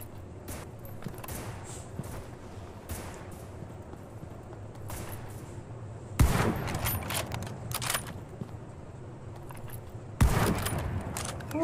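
Sniper gunfire in a PvP shooting video game: two loud, sharp shots roughly four seconds apart, each with a ringing tail, over a steady game ambience with scattered faint clicks and footstep-like taps.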